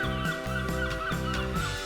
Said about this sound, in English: I added seagulls that are almost laughing at her.